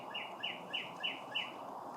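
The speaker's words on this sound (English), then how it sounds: "the birds are chirping" Outdoor birds chirping on a sunny morning, a series of four or five bright, evenly spaced chirps against a soft steady background, moderately close, with no voices.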